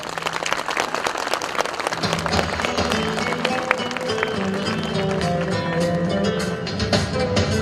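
A crowd at a village evening gathering applauds steadily to welcome the mayor onto the stage, a dense sustained clapping that fills the space, with music and voices rising beneath it in the latter half.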